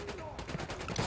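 Rapid sniper and rifle gunfire from the tactical shooter Ghost Recon crackles in a quick string of sharp shots, mixed with clipped game chatter and busy battle noise.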